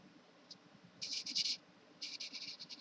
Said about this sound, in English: go back over with your Sharpie and kind of redo these edges on the outside